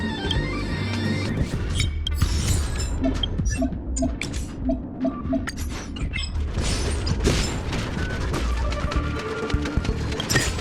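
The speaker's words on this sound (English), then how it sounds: "We reached the elevator already?" Elevator machinery moving in the video game Honkai, near Herta's Space Station, giving a steady mechanical rumble with scattered clicks and creaks that runs under background game music for the whole stretch.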